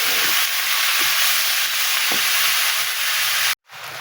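Vegetables frying in hot oil with black cumin seeds in a wok make a steady, close, loud sizzle that runs continuously, with faint stirring knocks, then a brief cut near the end.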